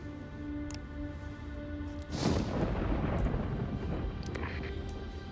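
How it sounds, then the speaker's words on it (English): Thunder during an EV storm in the video game DayZ: a deep, rolling rumble swells abruptly after a steady background hum and keeps rumbling loudly to the end, with no voices. "we're gonna wait out the EV storm here"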